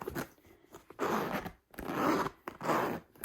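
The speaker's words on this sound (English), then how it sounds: "The zipper is just a teensy bit grabby" A zipper on a Gucci Marmont top handle bag, slightly grabby, is pulled in three or four quick, raspy strokes, close and clear, with short pauses between pulls.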